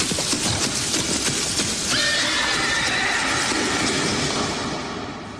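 A horse neighs and whinnies, a drawn-out call rising over a steady rushing ambient background, fairly close and prominent, fading slightly at the end.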